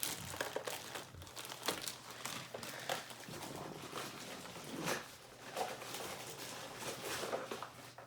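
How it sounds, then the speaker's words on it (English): A plastic baggie full of small tools, including Allen keys, crinkles and rustles as it is handled up close, with steady scattered crackles and taps throughout and no talk. "Got a plastic baggie over here with a ton of tools and whatnot for me."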